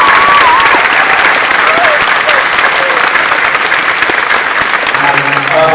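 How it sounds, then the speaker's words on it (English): Sustained applause from a convention panel audience at London MCM Expo, steady clapping filling the room, with a few faint voices and whistles mixed in near the end. "please join me in my last round of applause for our panelists"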